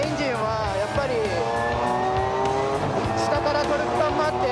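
Tuned naturally aspirated race car engine on a time attack lap at SUGO circuit wails loudly with sweeping harmonic revs and gear changes, tire squeal mixed in, while someone talks over it.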